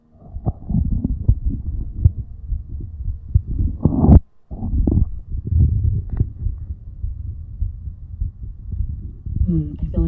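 Heartbeat picked up by a microphone held against the body, a steady low throbbing pulse repeating close and loud across the whole stretch, with one brief dropout partway through.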